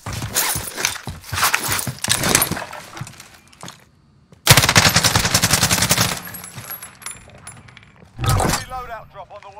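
Gunfire in the video game Warzone, with dense rapid bursts and crackling shots in two main stretches, close and loud, mixed with game sounds and players talking over it.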